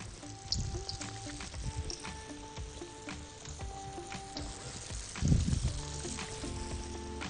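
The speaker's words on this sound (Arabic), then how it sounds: "وابدا ان انا اقلي في الزيت" Slices of dough for minced-meat pies frying in hot oil, a steady close sizzle and crackle throughout with a louder bubbling surge near the end, no talking.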